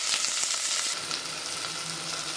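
Sliced onions and green chillies sautéing in oil in a pan, a steady bright sizzle with light stirring, close and continuous with no talk.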